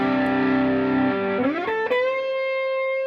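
Electric guitar through a Big Joe Classic Tube stomp box pedal with the gain turned up: a held chord rings, then bends and slides into a long sustained note, moderately distorted and alone.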